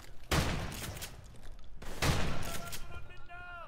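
Gunfire in Call of Duty 4: Modern Warfare Remastered: two dense bursts of rapid shots with a lull between them, followed by fainter scattered shots and game effects.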